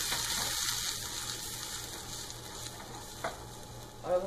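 Onions and spice masala frying and being stirred in a pan for a mushroom, potato and pea curry, a steady sizzle with soft stirring scrapes and a brief clatter near the end, no talk.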